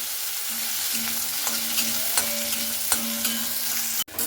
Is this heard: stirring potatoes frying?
yes